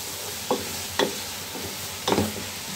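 Salt stirred into food frying in a pan, heard as three or four distinct scraping strokes over a steady low sizzle, close and fairly quiet, with no talking.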